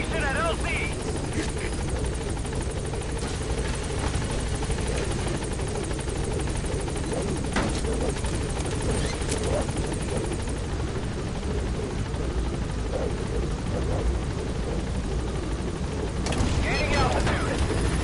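A helicopter arrives and holds at a landing zone in the Metal Gear Solid V video game, its dense continuous rotor and engine roar filling the whole stretch, with occasional mechanical clanks and game radio voices speaking over it.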